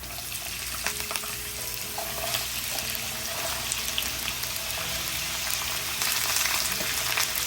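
Cut potatoes drop into hot oil with golden-brown garlic for a greens and potato dish, giving a steady close sizzle with faint clinks and stirring over a low background hiss.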